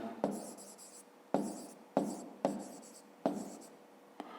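A pen writes on paper during a fifth-grade math exercise, with several short bursts of scratchy strokes separated by brief pauses, close and clear with no talking.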